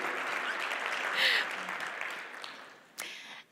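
Moderate audience applause at a battery storage product launch event, fairly faint and distant, with a brief louder burst of clapping near the end and some voices underneath.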